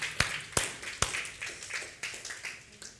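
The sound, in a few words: audience applause in church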